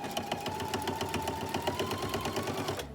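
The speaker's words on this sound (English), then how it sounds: "Put my needle down and then start sewing." A Husqvarna Viking sewing machine sews quilt binding with a double-thickness binder attachment, its needle stitching in a fast, steady mechanical rhythm, close and alone.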